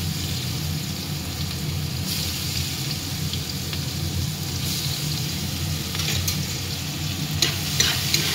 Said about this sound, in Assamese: এতিয়া মই তেলত পিঁয়াজখিনি দি দিছোঁ।